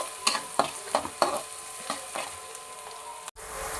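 Vegetables for upma, including capsicum and ginger, stir-fried in a pan, with sharp scraping strokes of a spoon repeating over a steady sizzle before a brief cut near the end.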